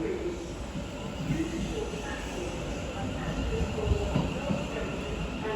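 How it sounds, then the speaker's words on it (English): A Thameslink Class 700 train, running a few minutes late from Bedford to Three Bridges, rumbles into a London terminus with a steady low clatter and wheel noise, voices faintly present. "Now coming back 3 or 4 minutes late will be the 10:14 Thameslink service from Bedford to Three Bridges."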